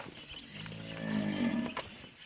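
A cow moos once at moderate distance, a long rising and falling low call over light background noise on a cattle farm.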